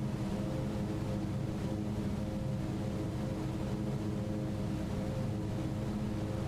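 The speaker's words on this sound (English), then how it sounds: "you could hear the torque and the sort of the engine noise change as well" Steady turboprop drone of an Aerosoft Twin Otter in Microsoft Flight Simulator, flying over Antarctica, a continuous even engine roar with no break and no talking.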